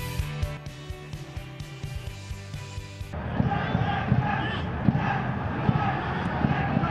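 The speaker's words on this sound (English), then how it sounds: "You can hear the crowd urging Hyderabad on to attack" Football stadium crowd at an Indian Super League match between Hyderabad FC and East Bengal FC roars and chants Hyderabad on, a broad sustained din that swells after a quieter opening stretch, with commentary talk running over it.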